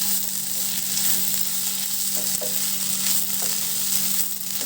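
Ivy gourd (kovakkai) curry sizzles and fries in a pan, a steady close crackle with a few faint stirring clicks, no voices.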